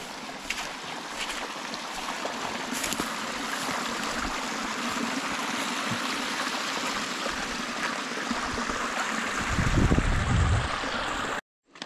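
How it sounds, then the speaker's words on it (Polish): Steady broadband rush of a side channel of the Trzebensza river, constant and fairly close, with a slightly louder surge near the end before cutting off. "Boczne koryto trzebęszy"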